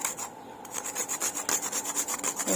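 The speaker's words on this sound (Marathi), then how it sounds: "बारीक किसणीने किसून आतमध्ये टाकून घ्यायचं" Spices such as dried ginger and nutmeg are rubbed on a fine hand grater for an amrakhand mix, giving a quiet, rhythmic rasping of quick repeated strokes close by.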